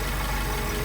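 The engine on Merle's Solex idles steadily as its throttle is adjusted, a close, even low chugging hum with no talk over it.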